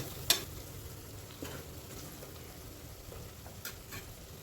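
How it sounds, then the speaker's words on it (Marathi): Onions with garlic, chili powder and turmeric masala stirred and fried in oil for a mixed vegetable khichdi, a faint, steady sizzle with a few soft utensil taps and scrapes, no talking. "हलवून घ्यायचा, परतून घ्यायचा तेलामध्ये तो."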